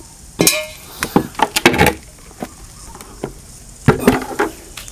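Rice-washing water fertilizer being stirred and mixed by hand in a basin, giving close, loud splashes and clinks in irregular bursts with short pauses between.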